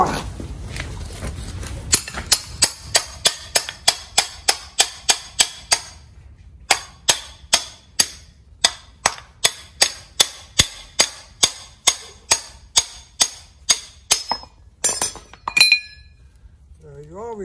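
Thick bonsai trunk being split, heard as a long run of sharp, evenly paced metallic taps, around thirty close strikes with short pauses, ending in a quick flurry of blows and a scrape.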